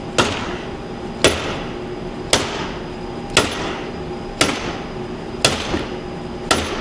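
A hammer strikes a punch to knock a stuck coilover collar loose on a Honda Fit (Jazz), seven sharp metallic blows at a steady one-per-second rhythm, close and loud with ringing decay between hits.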